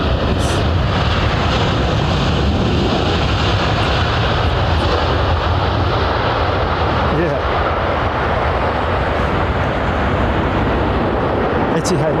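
A large airliner lands at London Heathrow, its engines producing a loud, continuous broadband roar that holds steady throughout with no pauses.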